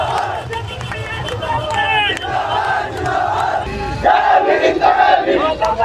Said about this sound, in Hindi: भीड़ लगी हुई है पूरी की पूरी।